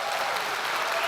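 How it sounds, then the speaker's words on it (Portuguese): A church congregation applauds during a sermon, with a full, even wash of clapping that holds steady throughout the short moment. "dê uma salva de palmas a Ele"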